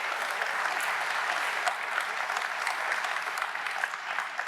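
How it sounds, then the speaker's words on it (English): A conference crowd at the AMO 2025 gathering gives Robin a round of applause, with sustained, even clapping from many hands at a moderate distance, and no talking on top of it. "Please give Robin a great round of applause."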